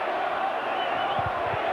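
Rugby league crowd at a 1992 Leeds v Widnes match lets out a sustained collective groan and murmur after a Leeds mistake, a broad wash of voices at steady loudness with a few short thuds near the end.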